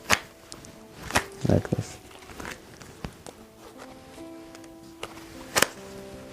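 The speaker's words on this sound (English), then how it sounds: "So when you do the snap deal change with pinky, you can make sound" Playing cards give a few sharp, crisp snaps, loudest near the start and again near the end, as a card magician performs a snap deal change with the pinky; someone speaks briefly between the snaps.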